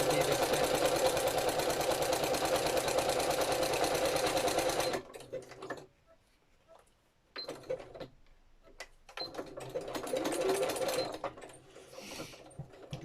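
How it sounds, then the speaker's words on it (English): Sewing machine stitching around a pocket on a handmade sunflower journal, a steady close mechanical whir for about five seconds, then short bursts of stitching separated by pauses. "I'm just going to stitch around the actual pocket"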